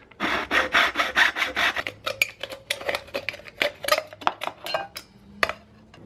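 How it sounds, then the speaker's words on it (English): A cut edge is ground smooth with rapid, rhythmic rasping strokes, loud and close, first as a fast run of scrapes and then as more irregular, sparser rubbing; no voices. "I'll probably grind it up a little bit to make it even smoother"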